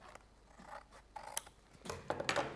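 Scissors trim the edge of a layered papercraft card, a few short crisp snipping cuts, close and quiet, growing a little louder toward the end.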